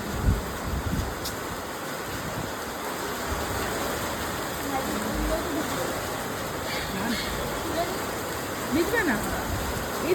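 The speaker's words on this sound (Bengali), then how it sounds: "জোর বৃষ্টি চলে এলো" Heavy rain pours down in a steady, dense wash that stays even and close for the whole stretch, with no clear gaps or individual drops standing out.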